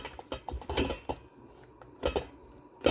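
A spatula scrapes spaghetti sauce around a pot in short, quiet bursts of scraping and clinking against the metal, with pauses between strokes.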